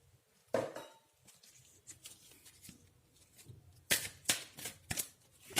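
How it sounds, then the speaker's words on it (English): Cards from a Heart and Soul oracle deck being handled and pulled, soft papery flicks and shuffles with a sharper cluster of riffling snaps near the end, close and quiet. "Let's pull one more card"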